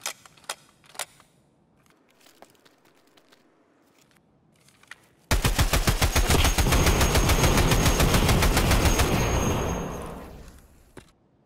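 A mounted machine gun in Escape from Tarkov opens up in a long, loud, rapid sustained burst lasting about five seconds, preceded by scattered distant single shots and clicks in a quieter stretch.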